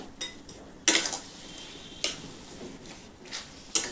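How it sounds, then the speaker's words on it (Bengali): Metal spoon scraping and clinking against a pan while stirring ash gourd korma with sugar, several sharp bursts at irregular intervals over a low background hiss. "আবার আমি নাড়াচাড়া করে নেবো"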